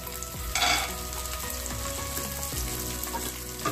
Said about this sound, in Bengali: হালকা ফ্রাই করে নিয়ে এর সাথে অ্যাড করছি 2 কাঁচা লঙ্কা কুচি আর 50 গ্রাম পরিমাণ চিনে বাদাম।